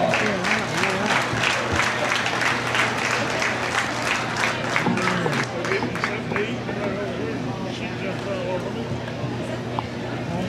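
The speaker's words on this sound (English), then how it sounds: "Let's give him another round of applause." Audience applause at a county fair hog show, a steady broad clapping from a crowd that carries on throughout while an announcer's amplified voice talks over it, thinning slightly toward the end.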